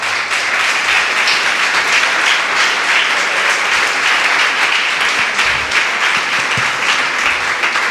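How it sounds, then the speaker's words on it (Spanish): A church congregation claps together in sustained, even applause, a thick wash of many hands filling the room at a steady level with occasional voices beneath. "Ese aplauso no le gusta al Señor."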